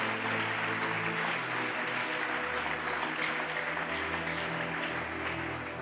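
An audience at a church service claps and cheers in a sustained wave of applause, with a musical drone underneath and no clear speech.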